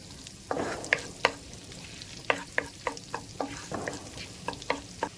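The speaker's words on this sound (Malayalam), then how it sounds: "വെളുത്തുള്ളി ഒരു 4 അല്ലി വെളുത്തുള്ളി ഇപ്പം ഞാൻ ഇട്ടിട്ടുണ്ട്." Four garlic cloves fry in butter in a pan for white sauce pasta, a soft close sizzle punctuated by a string of sharp spoon taps and scrapes against the pan, quiet and without voices.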